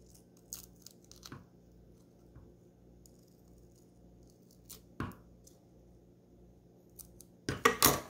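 Scissors snipping material for a doll purse in a quiet room, a few separate crisp cuts followed by a louder flurry of quick snips at the end.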